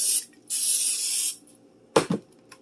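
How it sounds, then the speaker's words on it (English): Two hissing bursts from an aerosol can of cooking spray onto a pan, a short one then a longer one, followed by a couple of light clunks. "I'm going to spray it well."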